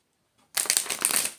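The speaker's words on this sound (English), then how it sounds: "let me give these a little shuffle" Tarot cards are shuffled close by, with a burst of crisp, rapid riffling and flapping that starts suddenly after a brief silence and continues steadily to the end.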